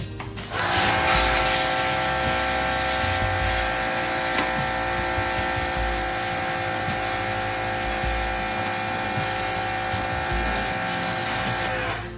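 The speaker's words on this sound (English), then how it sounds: "Taking the pressure washer here." A pressure washer sprays steadily, blasting factory undercoating out of the wheel well of a 1968 VW Beetle, a loud continuous hissing roar with a mechanical drone that runs unbroken for about twelve seconds, without talk.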